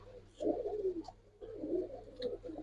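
Giribaz pigeons cooing nearby, two soft throaty coo phrases with a short pause between them, heard alone over a low background hum.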